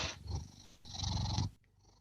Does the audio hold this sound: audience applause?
no